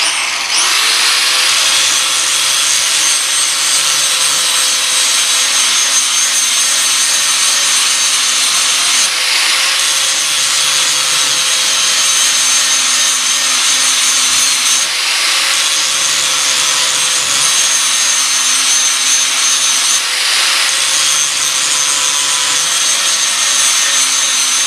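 A lawn mower blade being sharpened by hand with a file, steady repeated rasping strokes close by, continuous and loud with brief pauses roughly every five seconds, no talking.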